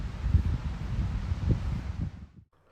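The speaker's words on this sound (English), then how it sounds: "It's a little bit windy down here." Wind gusts at the ocean, a 10 to 15 mph breeze, rumble and buffet steadily and close for a couple of seconds before cutting off abruptly.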